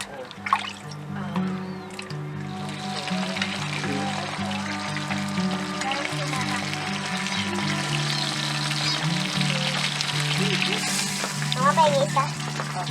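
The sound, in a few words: pagpag leftover food frying in a pan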